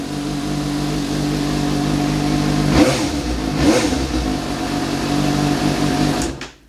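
A 2020 Suzuki GSX-S750 motorcycle idles nearby with a steady, smooth engine hum, two brief revs rising and falling in the middle before the engine is cut at the end.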